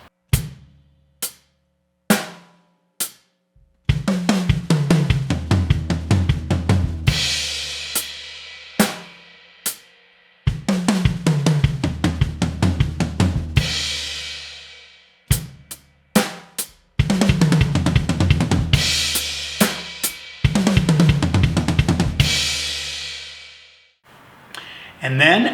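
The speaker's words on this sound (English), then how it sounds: "We're going to play the first 2 notes on the small tom, next 2 on the medium tom, and then the next 3 right lefts on the floor tom" A drum kit plays a fast fill moving across small, medium and floor toms, punctuated by separate single hits, in repeated loud bursts of rapid strokes with cymbal wash ringing out between them.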